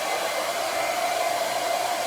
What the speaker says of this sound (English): the trick to blow drying your hair is to use a brush and go the opposite direction like this on both sides to get the top dry